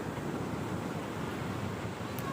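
Sea waves washing onto the beach at Digha at sunset, a steady broadband roar of surf mixed with wind buffeting the microphone, continuous and fairly loud with no pauses.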